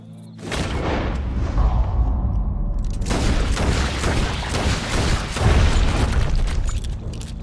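Rapid booming gunfire from Red Dead Redemption 2 breaks out in loud overlapping bursts, sustained and heavy from start to finish with no talk.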